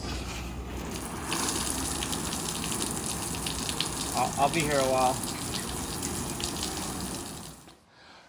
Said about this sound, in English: now that we had the pool filled with water